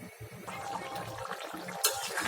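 Broth poured into a pan of bottle gourd and broiler chicken curry, a soft, close liquid splashing and trickling that runs steadily for a couple of seconds over faint kitchen background.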